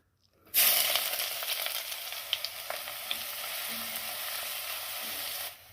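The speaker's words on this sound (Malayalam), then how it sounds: "കടുക് പൊട്ടി വന്നിട്ടുണ്ട് ഇനി നമുക്ക് അരിഞ്ഞു വെച്ച കൊച്ചുള്ളി അങ്ങോട്ട് ഇട്ട് കൊടുക്കാം" Chopped shallots are dropped into hot oil where mustard seeds have already popped. A sudden loud hiss erupts, then settles into a steady close sizzle with a few small pops before cutting off just before the end.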